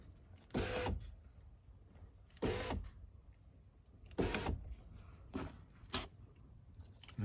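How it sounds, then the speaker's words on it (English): On a Mercedes W447 Metris van, the power window motor whirs in four short separate bursts as the glass rises in steps, each a brief close buzz with quiet gaps between. "what we do now is we close our window in I would say 1 inch steps."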